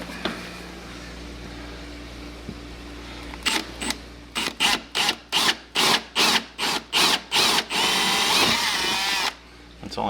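Jigsaw cutting a hole through wood on a workbench: about a dozen short, loud buzzing bursts in a stuttering rhythm, then one longer continuous cut before the motor stops.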